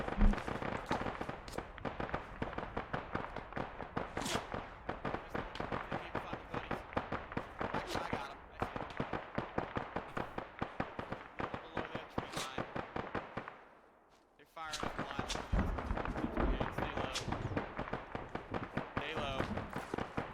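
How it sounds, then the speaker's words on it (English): Rapid bursts of gunfire in the video game Arma 3, crackling steadily and continuously with a brief lull, while people talk over it. "they're actually shooting right at us"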